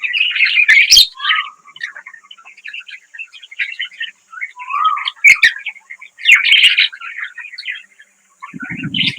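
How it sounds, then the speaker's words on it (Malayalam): Lovebirds in an aviary beside a resort walkway chirp and squawk in repeated bright bursts, close and fairly loud, with short pauses between flurries; a brief low rumble enters near the end. "നടപ്പാതേന്റെ അടുത്ത് തന്നെ കിളിക്കൂടുണ്ട്. Love birds ആട്ടുള്ളു."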